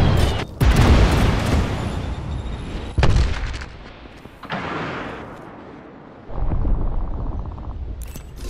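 A grenade in Apex Legends goes off with a loud, close boom and rumbling tail, joined by further heavy blasts and gunshots that come in distinct bursts, each followed by a decaying roar.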